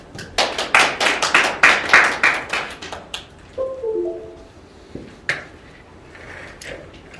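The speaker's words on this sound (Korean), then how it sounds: "뜨거운 박수로 모시겠습니다." Applause from a conference audience at an academic winter meeting, with a dense burst of clapping for about three seconds that thins into scattered claps and fades.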